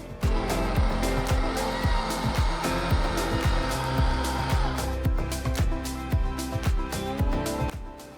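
Stand mixer beating erythritol for homemade keto brown sugar, a loud, steady whirring motor with rapid rhythmic clicking and clattering from the bowl, close and continuous.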